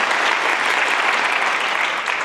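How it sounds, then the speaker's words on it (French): Thunderous, even applause from a conference audience at a health-and-sport event, dense and continuous for a couple of seconds. "Merci de faire un tonnerre d'applaudissements pour la team Marathon."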